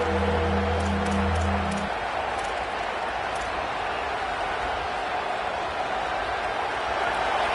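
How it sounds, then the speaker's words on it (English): A home crowd at a Stanford vs UCLA college football game roars in a steady, dense wall of cheering noise that holds throughout, with a brief low tone at the start. "Here comes this home crowd as the defense tries to get off the field on third down."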